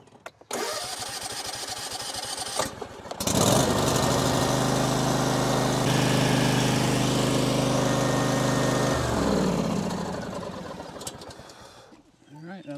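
A Husqvarna TS242XD lawn tractor engine cranks briefly, then catches and runs at a loud, steady mid-pitched idle for several seconds before winding down and cutting off, heard up close.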